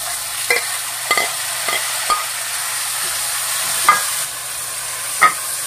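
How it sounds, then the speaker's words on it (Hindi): Garlic, onion and ginger fry in a pan for Punjabi sarson ka saag, with tomatoes about to go in. A steady, moderately loud sizzle runs throughout, broken by a handful of sharp spoon-on-pan stirring taps and no talking. "ये लहसुन प्याज अदरक हमारा बहुत अच्छी तरह फ्राई हो गया है। अब इसमें मैं टमाटर डाल दूंगी।"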